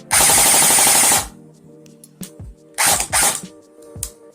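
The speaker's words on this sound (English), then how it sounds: "It's shooting about 385 FPS. Here's semi. It's full auto." A Cyma 612 M4 airsoft gun fires full auto in a loud, rapid buzzing burst over a second long. Shorter bursts and mechanical clicks follow, with no voices.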